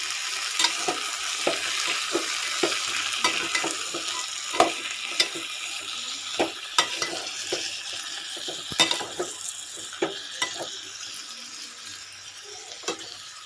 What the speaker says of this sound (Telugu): వీటన్నిటిని బాగా మెత్తగా వేయించుకోవాలి